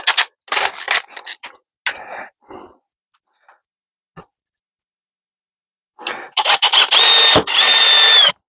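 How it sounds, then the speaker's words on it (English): A power drill whirs in short bursts pre-drilling mounting holes for a Kydex holster press, then a pause with faint clicks before a longer, high-pitched drilling run. "pre-drill some holes, mount them down, pre-drill some holes"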